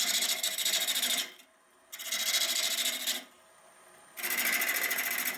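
A wood gouge hollows a natural-edge olive wood bowl on a lathe with a harsh, rapid rasping cut, heard in three sustained passes separated by short pauses, close and loud, with no talking.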